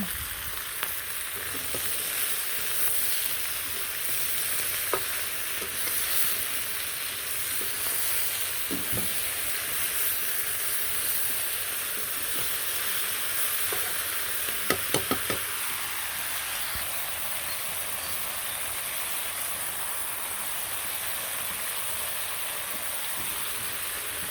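Spices with turmeric sautéing in a pan, a steady hiss of sizzling oil running throughout with occasional light knocks of a spoon against the pan.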